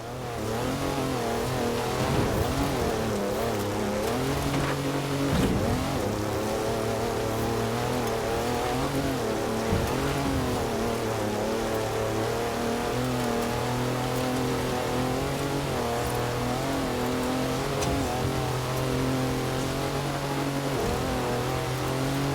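A 340-horsepower car in Forza Horizon 4 drives continuously, its engine droning loud and close with a steady harmonic hum that rises and falls through the gears, and a hiss like rain over it, with no talking.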